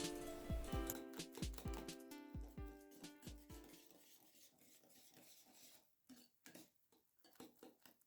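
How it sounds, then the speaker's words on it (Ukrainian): A metal whisk beats cookie batter made with semolina in a bowl, producing rapid rhythmic clinks and taps against the sides, loud at first, then softer, wetter stirring scrapes. "І знову все перемішую вінчиком до однорідної маси."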